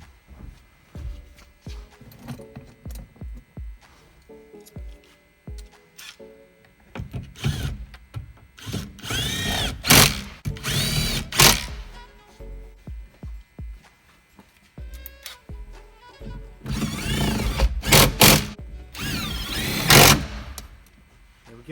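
A Snap-on impact wrench runs on bolts during a Jeep Wrangler audio install. It fires in two clusters of loud whirring, rattling bursts, with quieter shuffling and handling noise between them.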